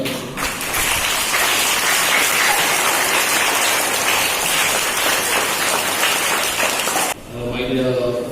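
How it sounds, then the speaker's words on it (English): Audience applause at a school investiture ceremony honoring newly elected office bearers: a dense, sustained burst of many hands clapping for about seven seconds, then stopping abruptly before a voice resumes. "Let's give a good clap to them."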